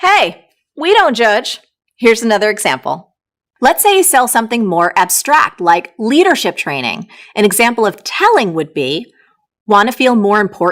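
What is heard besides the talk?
No everyday noises stand out.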